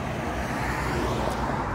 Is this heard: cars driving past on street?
yes